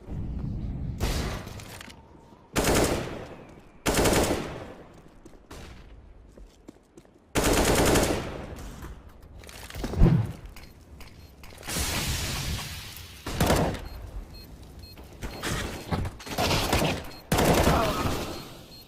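Rapid bursts of gunfire from a first-person shooter such as PUBG or CSGO, loud and repeated in short volleys separated by brief gaps, with mechanical clicks and clatter between the shots.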